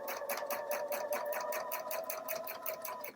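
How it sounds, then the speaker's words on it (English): A domestic sewing machine runs through a short, steady burst of rapid, evenly pulsing stitches while refashioning a shirt and skirt. The machine sounds close and fairly quiet, and no one speaks. "Then I always set my sewing machine to end in the down position."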